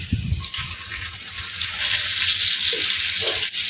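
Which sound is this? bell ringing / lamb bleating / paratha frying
paratha frying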